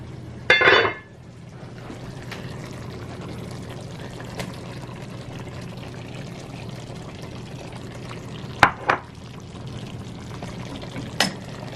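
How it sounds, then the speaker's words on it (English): Preserved lemons and Kalamata olives tipped into a pot of simmering Moroccan chicken: one short, wet splashing pour near the start, then a low simmer with a few faint clinks and taps. "now it's time to add those preserved lemons and the Kalamata olives"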